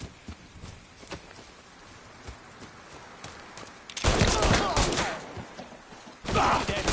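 Loud gunfire bursts in the Mafia III video game, heavy shooting erupting midway after quieter rustle, with a second barrage near the end.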